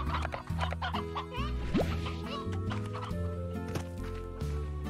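Chickens clucking in the Slime Rancher video game, short repeated clucks layered over steady game music and background effects.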